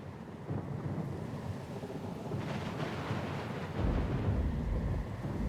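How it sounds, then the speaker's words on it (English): Thunderstorm at sea in the game Pillars of Eternity II: Deadfire: a steady roar of rain and wind with deep rolling thunder that swells and booms louder toward the end, no voices. "A little sloop? Lost and alone in the storm?"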